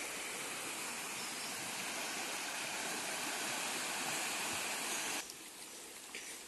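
Swollen river in Bahia rushing after heavy rain, a steady broadband roar of flowing water close by, constant throughout and easing slightly near the end.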